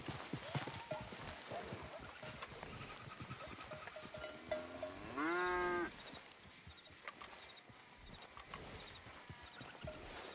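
A single long moo from cattle in the video game Red Dead Redemption 2, rising midway through over a background of hoof clops and ambient farm noise, moderately close.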